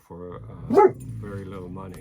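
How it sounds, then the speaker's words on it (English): Indoor dog barking once, a single sharp bark close by, heard under and between a man's ongoing speech. "And that was just the dog."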